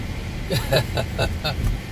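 A squeaking car passes on the road, giving off a run of sharp, evenly spaced squeaks about four times a second over a steady rumble of traffic.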